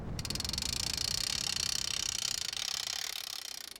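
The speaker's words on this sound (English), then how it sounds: "and a ratcheting crank" A ratcheting crank mounted on a tripod draws back a bow, giving a fast, steady run of close, crisp mechanical clicks that carry on for several seconds.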